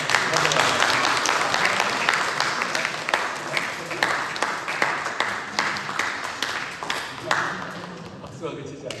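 Congregation applauding during a Sunday church service at a Korean church in Dallas, a dense, steady wash of clapping that stays loud throughout and thins slightly near the end, with a voice speaking over it.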